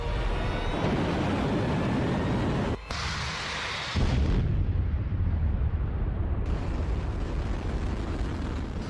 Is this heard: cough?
no